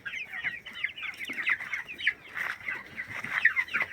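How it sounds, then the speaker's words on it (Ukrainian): A hen and a rooster cluck close by in a backyard, a busy run of short repeated clucks and chatters with no speech. "А, он де, он курочка."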